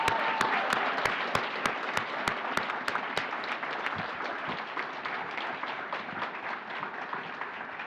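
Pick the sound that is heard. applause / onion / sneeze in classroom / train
applause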